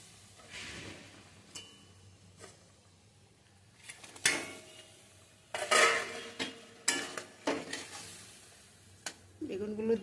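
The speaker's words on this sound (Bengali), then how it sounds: "এবার আমি বেগুনগুলো দিয়ে দেবো এক এক করে।" Eggplant pieces go one at a time into a hot pan for a Bengali begun dish, giving a series of separate sizzling bursts and utensil clinks against a quiet background with no talk.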